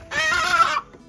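A single loud, close hen squawks in one harsh, drawn-out cluck lasting under a second on a rural farm just before being caught, followed by a brief quiet.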